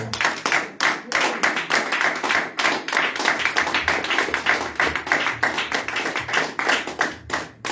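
Church congregation clapping to acclaim the King of Kings: loud, steady rhythmic handclaps from many people, sustained in time together throughout.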